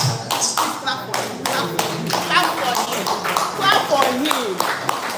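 Scattered hand claps from a small audience at a live event, roughly a dozen distinct near claps at an uneven pace, mixed with chatter and voices.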